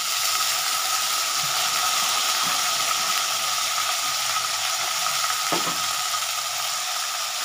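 Onion drops into hot oil and fries with a dense, even sizzle that stays loud and close throughout, with a few faint clicks of stirring underneath.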